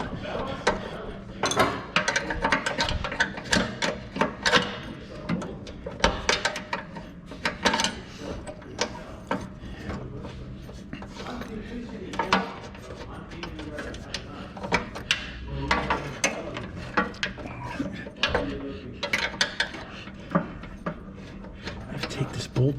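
Metallic ratcheting and clinking come from close by as a bolt and nut are worked off a Craftsman snow blower, in uneven bursts with someone talking quietly throughout.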